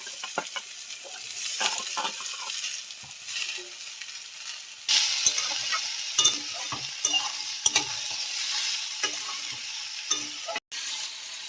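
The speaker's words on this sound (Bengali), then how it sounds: "এটা এখন আমি ভেজে নেব। তেল আমার গরম হয়ে গেছে, এইগুলো আবার দিয়ে দেবো তেলের মধ্যে।" Cut pointed gourd, bitter gourd and potato fry in hot oil, giving a continuous close sizzle broken by frequent stirring scrapes and light clinks of a utensil against the pan.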